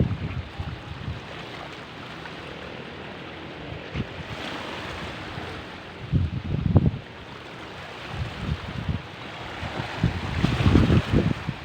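Strong wind gusts over open water beside a small boat under overcast skies, a steady rushing blow that swells into louder buffeting bursts.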